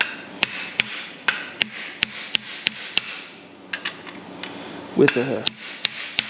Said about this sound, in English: drive this bearing in on this shaft and get it all put together